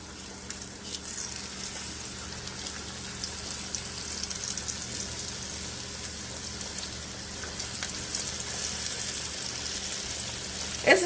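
Pork chops dropped into hot fat in a big pan, crackling and sizzling steadily with a dense, even hiss and faint bubbling throughout, fairly close and with no talking.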